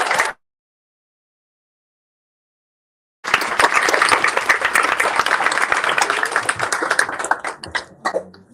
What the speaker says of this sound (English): let's give a big round of applause for Dixon's Violin